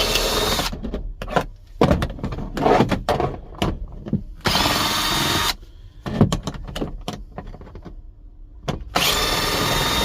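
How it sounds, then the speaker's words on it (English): A power tool spins out 7mm bolts near the passenger airbag of a Chevy Cobalt dash at a wrecking yard, several loud whirring bursts separated by gaps of clicks and rattles, no talking. "Remove the three 7mm bolts by the passenger side airbag."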